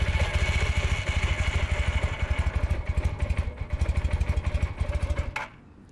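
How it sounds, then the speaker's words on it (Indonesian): An old, worn-out motorcycle engine runs as a radio drama effect, a rapid, throbbing pulse of firing beats close by, loud and steady for several seconds before cutting out abruptly. "Sudahlah Lang, motor rosokmu itu sudah tidak sanggup lagi"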